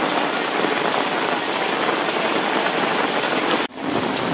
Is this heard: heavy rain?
yes